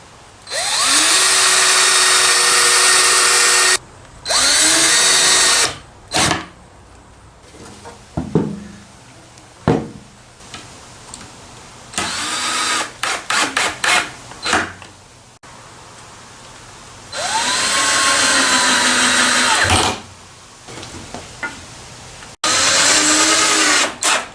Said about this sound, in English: Just going to screw holes in these first.